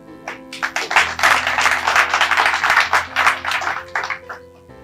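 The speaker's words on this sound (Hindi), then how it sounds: "उस बात की पुष्टि एक बार आप लोग अपने तालियों से जरूर कीजिएगा।" Audience applause following a Hindi poetry reading, a burst of many hands clapping that swells quickly, stays dense and loud for several seconds in uneven waves, then tapers off.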